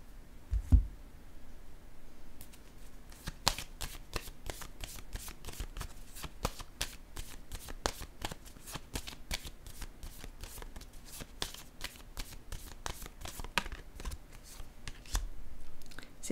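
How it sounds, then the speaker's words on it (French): Tarot cards shuffled and laid down one after another, a close, quiet run of rapid papery riffles and soft flicks continuing steadily throughout. "Je vais déposer une autre carte ici."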